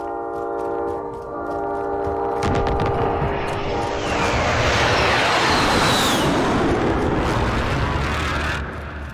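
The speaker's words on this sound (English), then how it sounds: "Be advised, friendly precision airstrike inbound." A precision airstrike aircraft in a video game roars overhead in a loud flyover, swelling into a broad rushing whoosh that peaks and fades away, after an electronic tone at the start.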